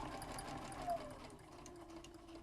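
A sewing machine stitching a quarter-inch quilt seam on a nine patch quilt block, a faint steady mechanical whir running continuously throughout.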